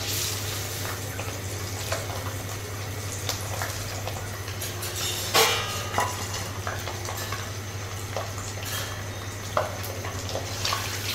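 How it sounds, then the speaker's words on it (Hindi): Eggs frying in hot oil in a wok give a steady, close sizzle throughout, with occasional scraping and stirring clatter and no talking. "अब इसमें हम डाल देते हैं अंडे को, इसको हम फ्राई कर लेंगे।"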